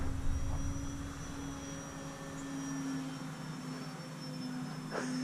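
An E-flite Valiant remote-control airplane flies overhead with a steady, moderately distant electric drone and faint whining tones, holding an even level throughout with no talking.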